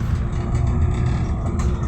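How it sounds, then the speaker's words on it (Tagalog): Dense road traffic in Guadalupe, with many motorcycles, rumbles as a continuous low engine drone close by, without any break or talk. "Grabing traffic."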